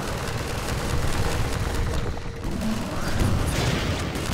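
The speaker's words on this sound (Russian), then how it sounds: "Вот так вот прицелюсь, как выстрелю." Gunfire from the Half-Life 2 Tray Mod, a dense burst of shots and booms filling the whole stretch loudly, with little pause between them.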